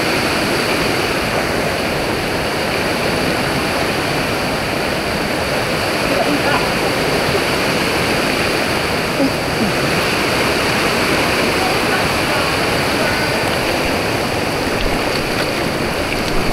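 Rushing water at Gabaldon Falls makes a loud, continuous broadband roar for the whole stretch, with a voice faintly audible beneath it.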